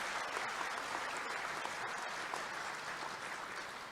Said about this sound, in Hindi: जब ताली बजाना तो दिल से बजाओ